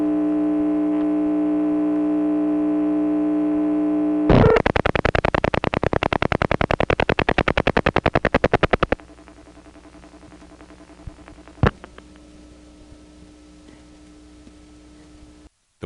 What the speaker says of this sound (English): You will hear a hum for a little while, and then when the next ring cycle gets around, it will then trip the ring and we'll hear the ticking tone.